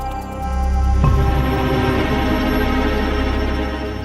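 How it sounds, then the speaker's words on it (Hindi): A telephone rings loudly and steadily in a household scene, a continuous warbling electronic ring with dense tonal layers that holds for several seconds. "देव फोन क्यों नहीं उठा रहा है?"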